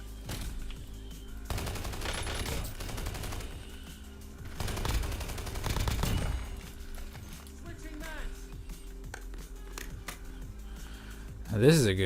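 RFB Maddox gunfire in the Warzone video game, with bursts of rapid automatic shots and scattered game effects, moderately loud, under ongoing talk.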